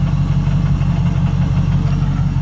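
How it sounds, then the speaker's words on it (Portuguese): A Dodge Challenger SRT8 with a 6.1 Hemi V8 idling, its exhaust giving a loud, steady low rumble with a faint rhythmic pulse, close by and without talk. "Olha o barulho do escapamento."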